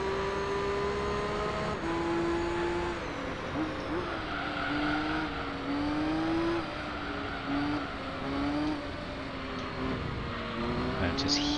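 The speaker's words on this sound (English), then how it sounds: "I just hear the scream of that Mazda engine." The Mazda R390 race car in Gran Turismo 3 screams at high revs, its tone rising and dropping through gear changes, loud and continuous at an endurance race on Mistral Côte d'Azur, with commentary talk mixed in.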